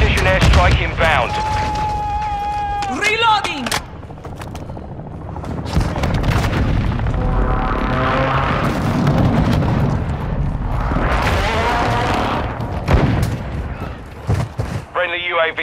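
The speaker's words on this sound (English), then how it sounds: "Friendly precision airstrike inbound" Precision airstrike explosions in Call of Duty Modern Warfare 2 boom loudly in two broad rolling waves amid gunfire and aircraft noise, with game radio voices and talk over the top.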